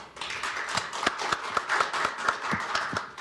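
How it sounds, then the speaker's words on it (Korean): Sparse, fairly faint clapping from a seminar audience welcoming a professor's talk on autonomous vehicle ethics guidelines in Korea, with distinct individual claps in an uneven rhythm. "큰 박수로 환영해 주시기 바랍니다."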